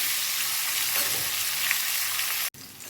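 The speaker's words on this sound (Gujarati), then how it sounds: "લગભગ 2 મિનિટ મેં આ રીતે શીંગને સરસ રીતે એકલા તેલમાં સોતે થવા દીધી હતી" Drumstick pods sautéing alone in hot oil, a continuous close crackling sizzle for a few seconds with faint stirring, cut off abruptly near the end and resuming softer.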